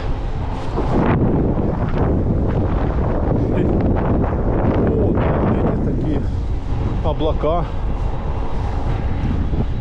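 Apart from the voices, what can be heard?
wind blowing outdoors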